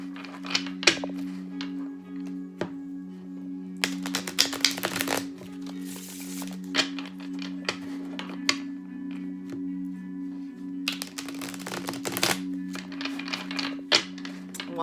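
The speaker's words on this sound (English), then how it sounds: "One more shuffle for Leo." Bursts of card shuffling, riffles and soft slaps, recur over a steady low hum, with quieter handling clicks and taps in between.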